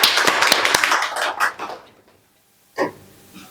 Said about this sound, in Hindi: आइए प्रवीण जी, और तालियों के साथ स्वागत करेंगे इनका।